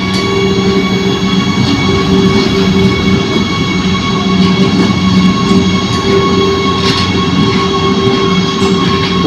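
A coal-laden goods train passes close by in a loud, steady rumble with a droning hum and faint intermittent wheel screech, no voices.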